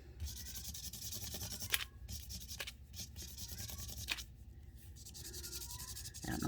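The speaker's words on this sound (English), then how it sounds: "I'm going to use the darkest shade of the ice blue, and I'm just scribbling on the back." An alcohol ink marker in a dark ice blue shade scribbles across the back of embossed vellum, giving a steady close-up rubbing and scratching texture with a few sharper ticks along the way.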